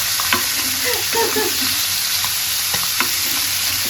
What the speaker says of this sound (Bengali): এখানে আমার মশলা প্রায় কষানো শেষ